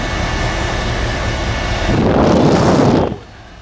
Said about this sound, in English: Belt's gonna need tightened up a little bit. But she is blowing cold already.